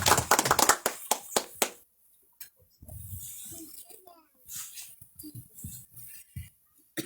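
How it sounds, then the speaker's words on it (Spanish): A congregation at a family church service claps in a burst of quick, loud applause that stops after about two seconds, followed by quieter murmuring, shuffling and a few scattered taps. "queremos recibirte con estas lluvias de aplausos, Señor"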